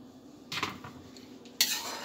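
A spoon scrapes a pan where besan is cooking in ghee: two distinct scraping bursts over a quiet, faint sizzle, with no talking.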